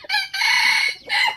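A breeding rooster gives one loud, close crow, a long strained call broken by a short dip before a final rising tail.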